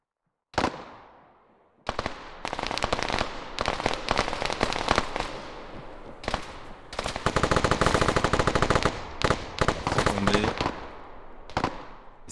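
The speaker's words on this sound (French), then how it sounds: "Seno qui a réussi à s'en sortir des rafales de Luan Costa" Gunfire crackles in a competitive capture-the-flag video game match: a single sharp shot, then rapid repeated automatic bursts in dense clusters, loud and close, with brief gaps between volleys.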